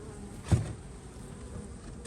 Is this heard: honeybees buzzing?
yes